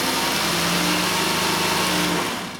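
Engine of a VW Routan or Chrysler Town and Country minivan cranking and catching on a cold start, a steady close mechanical drone with faint idle tones that eases off at the end, no talking.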